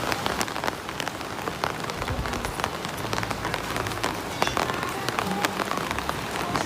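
Rain patters continuously on a surface in the Philippines, with dense close drops and scattered sharper hits, and no clear voices.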